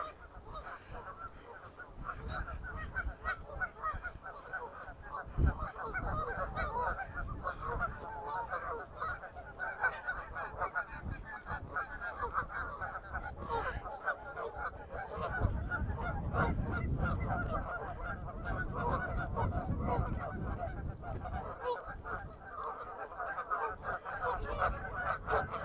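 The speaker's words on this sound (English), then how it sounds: "And lots of noisy geese." A flock of noisy geese by a lake on a chilly morning honk repeatedly, their overlapping calls fairly close and continuous over outdoor ambience.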